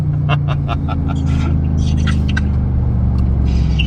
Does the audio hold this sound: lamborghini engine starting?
yes